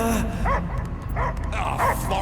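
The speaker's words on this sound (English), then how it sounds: "I hear only barking." A dog in Guardians of the Galaxy barks in a quick series of loud, close woofs with yelping edges, repeated about five times over a low rumbling background.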